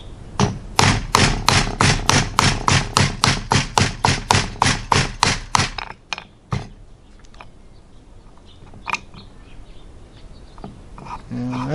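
A 1095 steel knife chops through a cooked, not fresh beef rib bone in a fast run of about twenty sharp, evenly spaced thuds. A few isolated knocks and faint background noise follow once the chopping stops.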